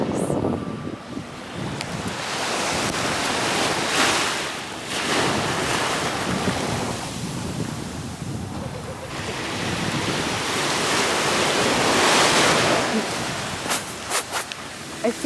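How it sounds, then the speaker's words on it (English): Sea waves wash onto the shore at a Barcelona beach, a loud rolling surf that swells and recedes in repeated surges under gusting wind on the microphone. "The sound of the waves."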